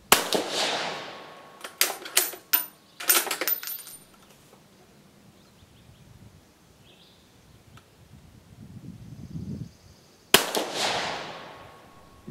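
Shots from an Italian Vetterli 1870/87/15 rifle ring out as two sharp cracks, one at the start and one near the end, each with a long fading echo. Quieter clicks and handling noises fall between them.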